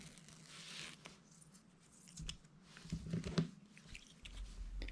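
A pet chewing on a piece of paper taken from double-sided tape, heard close and quiet as soft irregular squishy bites and crinkles that grow busier and louder toward the end.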